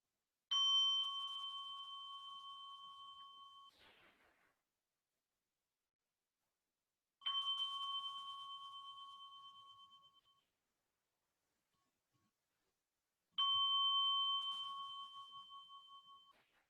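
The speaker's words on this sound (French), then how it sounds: "Et puis je vais appeler la clochette." A meditation bell struck three times, each ring a clear sustained metallic tone slowly fading into silence before the next strike, spaced several seconds apart in a quiet room.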